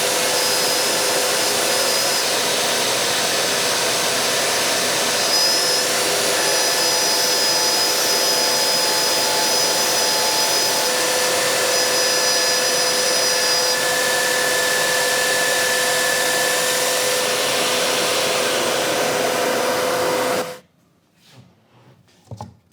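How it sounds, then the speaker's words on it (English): An Origin handheld CNC router cutting templates from 1/2 inch MDF gives a loud, steady whining roar with a constant hiss that runs unbroken for about twenty seconds, then cuts off abruptly, leaving faint handling noises. "show how we cut these templates out of some 1/2" MDF with Origin."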